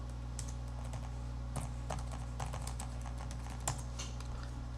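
Password typed on a computer keyboard, a close series of light, irregular key clicks over a steady low electrical hum.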